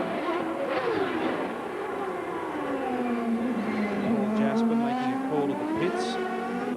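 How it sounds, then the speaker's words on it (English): A 1997 Champ Car engine at a Gold Coast street race wails at high revs as the car laps the circuit, its note swooping down and back up through braking and over the curbs, loud and continuous under commentary. "You can hear when he hits the curbs, you can hear the engine note change."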